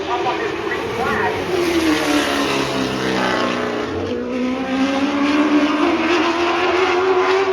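Late model race cars at a short track accelerate on the green flag, a loud pack of engines roaring and rising in pitch together, with a voice talking over them.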